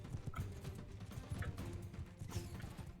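Horse hooves gallop in the video game Mount & Blade II: Bannerlord, a rapid continuous drumming of thuds close by with faint clattering above, steady and unbroken, without speech.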